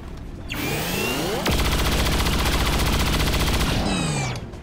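Gunfire from the video game XCOM 2 at an alien facility, a sharp loud shot followed by a sustained burst of rapid automatic fire with whirring mechanical tones, then a fading tail.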